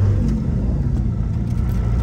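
A Cummins diesel truck engine drones steadily while driving, a close, loud low rumble with a constant hum and no speech over it.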